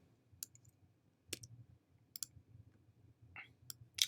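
Sparse keyboard keystrokes clicking at a quiet desk, a few isolated taps with pauses between, then a quick pair near the end, faint and close with no talk.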